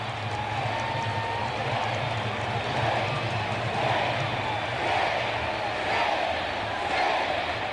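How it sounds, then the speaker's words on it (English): A packed baseball stadium crowd at a 1992 NLCS Game 7 between the Pirates and Braves chants "Sid" in a steady, rolling roar, with rhythmic swells repeating every second or so. "The crowd chants Sid."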